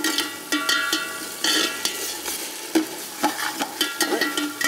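Minced meat keema sautéing in a pan for a Ramadan nonbu kanji, with repeated sharp spatula scrapes and clanks against the metal over a moderate sizzle, close up and without speech.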